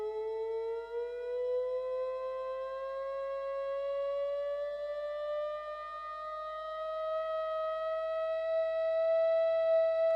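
A theremin played slowly, one sustained, smooth tone gliding gradually upward in pitch over about ten seconds as the note is adjusted, rich in overtones and siren-like, quiet and alone without any voices.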